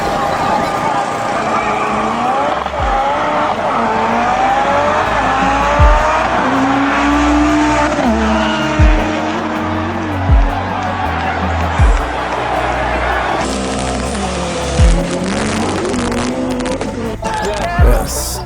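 Drag racing cars, including a Skyline, roar and accelerate loudly with rising engine notes, repeated gear changes and tire squeal, thumping shifts recurring every few seconds, with crowd noise faintly underneath.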